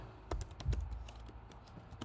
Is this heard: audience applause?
no